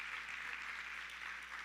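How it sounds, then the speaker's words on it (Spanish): Applause from a church congregation at a Spanish-language service, a steady soft wash of many hands clapping without pause, fairly distant and faint. "Dale un aplauso al Señor."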